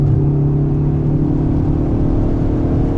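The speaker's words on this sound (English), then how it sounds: "Downshift to fourth, and I'm at about half throttle." Ford Focus ST pulling in fourth gear at half throttle, a steady, strong engine drone with firm harmonic hum that holds evenly throughout, close and loud, with no voices.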